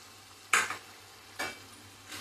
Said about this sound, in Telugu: ఒకసారి కలిపేసుకుందామండి.